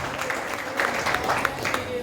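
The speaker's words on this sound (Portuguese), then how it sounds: "eu quero nessa oportunidade pedir uma salva de palmas para todos os pastores que por aqui passaram falando a palavra de Deus" A church congregation applauds the pastors, steady dense clapping from a crowd filling the room throughout, with no break.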